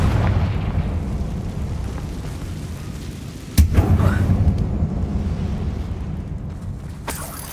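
A single Confringo fire-spell explosion inside an abandoned mine in the game Hogwarts Legacy, a sudden sharp blast followed by a deep rumbling tail that slowly dies away, with a faint later crackle and no talk.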